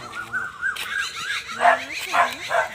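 A dog barks, yips and whimpers in several short bursts at close range, with some high whining tones, among brinjal plants on an organic vegetable plot. Voices can be heard in the background.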